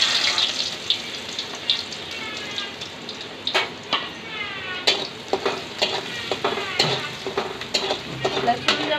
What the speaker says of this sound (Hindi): ऑयल भी गर्म हो गया है। अभी मैं लहसुन डाल दूँगी।